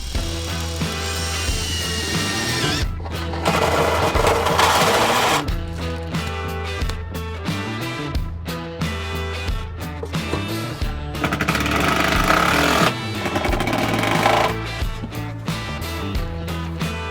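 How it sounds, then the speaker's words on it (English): A power drill bores a pilot hole, its whine rising and falling in bursts with short pauses between, close up and loud with no talking. "I just pilot a hole up through and then drill down."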